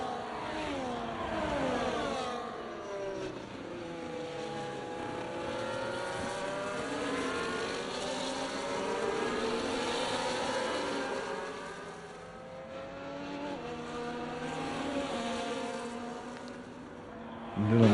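Race cars in a sim racing league event at the Baku street circuit, Azerbaijan, several engines whining and overlapping as they pass and jostle for position, pitches rising and falling continuously throughout.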